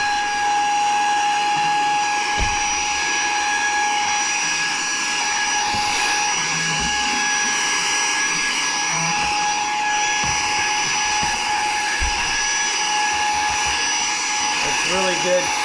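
A Saker 3in1 vacuum cleaner runs on its low setting with a steady, even motor whine and airflow hiss, close by, while a person talks over it.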